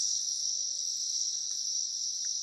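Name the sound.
Amazon rainforest night ambience in Peru, insects chirping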